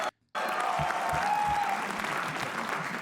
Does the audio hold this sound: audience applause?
yes